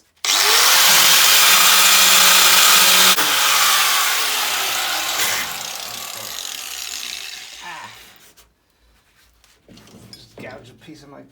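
An angle grinder working on the front valance of a 1970s Ford Cortina Mk3 2000E during rust removal, a loud, sustained whining grind that fades and spins down, followed by quieter handling sounds and brief talk.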